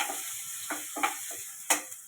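Potatoes dropped into hot oil with asafoetida for a potato and cabbage sambharo, a faint, soft sizzle with a few light stirring taps and scrapes against the pan, no voices.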